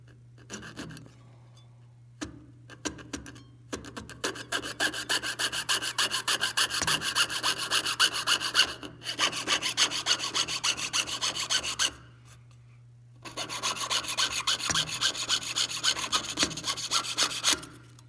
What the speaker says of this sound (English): you are going to cut it with your jeweler's saw